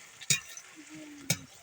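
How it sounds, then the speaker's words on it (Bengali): Onions being stirred in a pan for a spicy meat curry: two short scraping clanks of a spatula over a faint background sizzle, close and quiet. "পেঁয়াজটা হালকা নাড়াচাড়া করব।"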